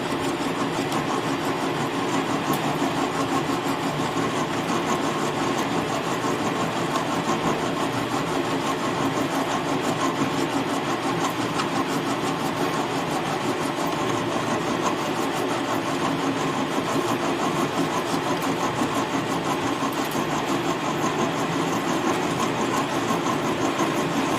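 Steady mechanical drone of a lathe boring metal with a cutting tool, a constant broadband hum with no pauses, moderately loud and close.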